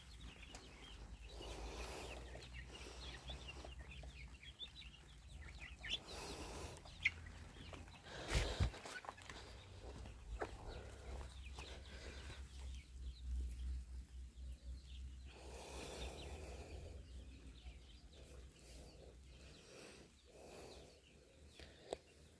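Chicks on a Ukrainian homestead garden, faint soft peeps and clucking scattered through a quiet outdoor background, with a few louder thumps and rustles along the way.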